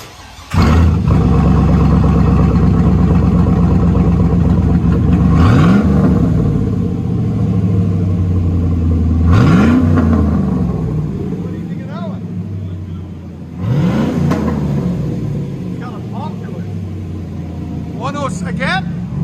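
Cammed Chevrolet Silverado V8 revving through a Carven R series 2.5-inch muffler, a loud, close engine with a lumpy idle between several sharp rev blips that rise and fall.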